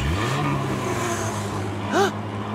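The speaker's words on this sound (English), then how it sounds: "It's a crowd cheering and monster trucks roaring!" Monster trucks roar at a rally, a steady loud engine drone with shifting revving tones throughout, and a brief whooping sound near the end over the continuous mechanical noise.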